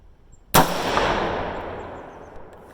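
Single sharp crack of a 20-inch Bear Creek Arsenal .223 Wylde heavy-barrel rifle firing 55-grain Sierra handloads outdoors, followed by a long fading echo.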